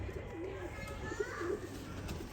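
A breeder female pigeon coos softly in a few low, rolling phrases over a steady background hum.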